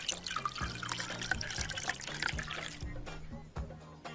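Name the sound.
pouring sugar syrup, video game Bartender VR Simulator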